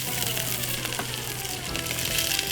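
Garlic and onion frying in a hot pan, a steady loud sizzle filling the short stretch without pause.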